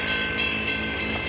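A passing train led by a single locomotive rolls by in Jacksonville, Florida, a steady loud rumble of wagons with faint rhythmic clatter and a high metallic whine throughout.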